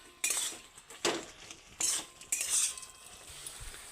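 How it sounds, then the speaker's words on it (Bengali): A metal spoon stirs a dry cauliflower stem curry in a pan, producing a few sharp scraping clinks spaced irregularly with a low background hiss and no speech. "এবার এটাকে নেড়ে চেড়ে নামিয়ে নেব"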